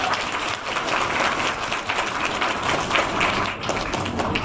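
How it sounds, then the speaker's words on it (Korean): Applause at a primary school graduation ceremony fills the room, sustained clapping from a crowd that stays even in loudness before briefly thinning near the end. "박수 부탁드리겠습니다"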